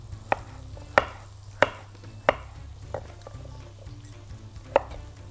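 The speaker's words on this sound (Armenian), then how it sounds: "Քարագուսիների ենք կտրատում ավոկադոն" Knife chopping avocado into cubes on a cutting board, six sharp distinct knocks spaced irregularly over a low steady background hum, close and clear with no talking.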